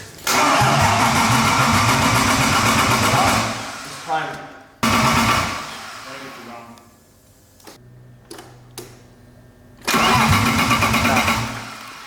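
A BMW E30 with a swapped M52 engine cranks and fires for its first start in loud bursts, separated by pauses, with voices heard around the car.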